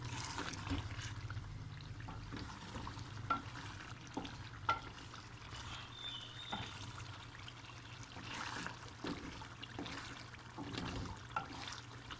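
Liver (kaleji) frying in oil for a masala dish, stirred with a spoon: a steady close sizzle runs throughout with scattered scrapes and clicks of the spoon against the pan, no talking.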